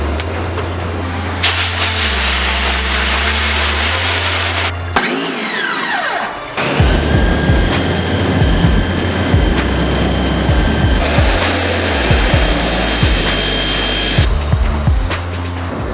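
A water sprayer washes out an exposed screen-printing screen, a loud, steady hissing rush that shifts in tone as the spray moves across the mesh, with a brief pause partway through.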